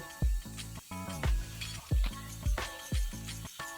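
Chicken fries lightly in a pan, a soft sizzle broken by repeated metallic scrapes and clinks of a utensil against the pan in a regular rhythm, close up, with no voices.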